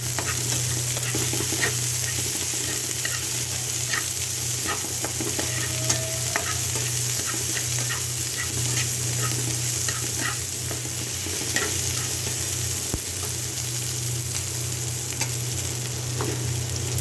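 Chopped garlic and two sliced dried chillies sizzle steadily in hot oil as a tempering for a bottle gourd curry with egg, with occasional stirring clicks throughout, close and continuous.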